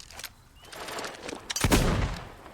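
Gunfire from a volley of shooters in the video game Fable 2, a broad crackling burst that swells loudly around the middle and then decays, with no talking over it.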